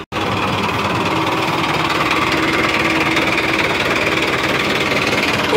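A farm tractor engine with about 4,500 working hours running, a loud, steady, close diesel drone with rattling vibration that holds constant throughout, with no talking.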